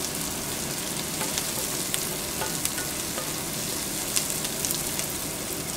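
Onions for chili con carne fry over lowered heat in a pan, a dense and continuous crackling sizzle with tiny pops scattered throughout and no talking.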